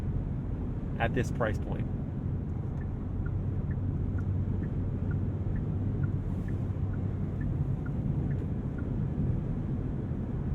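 Steady wind roar fills the cabin of a 2022 Genesis G70 3.3T V6 Sport RWD cruising at highway speed off the throttle, a constant broadband rush beneath a person talking.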